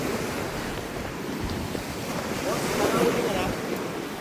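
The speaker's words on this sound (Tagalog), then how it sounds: "Lino ng tubig kasi lakas ng alon, no? Lakas ng hangin." Strong surf rolls and crashes steadily while gusty wind buffets the microphone with a low rumble throughout.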